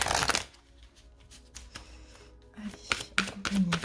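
Tarot cards being shuffled by hand in several short riffling bursts, close and moderately loud, with a quiet pause between handlings and a voice speaking near the end.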